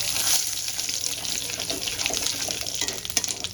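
Whole cumin seeds and a bay leaf sizzle steadily in hot oil as a tempering, a close, continuous frying hiss with faint crackles and no talk.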